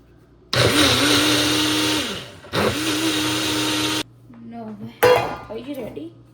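A kitchen mixer grinder whirs loudly in two steady bursts while grinding chili, salt and water, followed by the clink of the jar and utensils.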